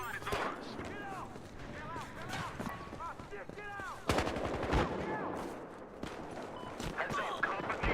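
Suppressed gunfire in the video game Battlefield Hardline on PS4, a string of sharp shots and bursts mixed with game effects and talking voices throughout.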